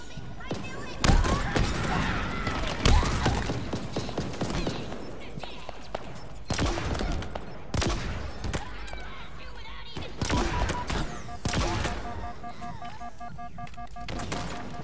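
Rapid gunfire bursts and scattered shots crackle in Halo Infinite on Legendary difficulty, dense and loud over busy game effects and ringing tones, with voices talking throughout.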